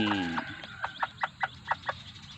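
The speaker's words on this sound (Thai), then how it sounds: "ลูกไก่นะครับผม ลูกเกี๊ยบ ตัวน้อยก็ออกมาแล้วนะครับ" Newly hatched bantam chicks peep in a quick series of high, short chirps, close and clear, with a faint background hum.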